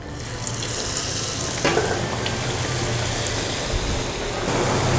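Steady broadband sizzling and crackling of battered banana fritters deep-frying in hot oil, continuous and fairly loud throughout with a brief burst partway.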